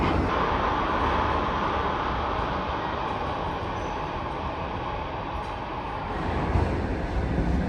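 A suspended monorail train on the Shonan Monorail rumbles steadily along with a constant broad roar, the noise swelling slightly near the end, no voices.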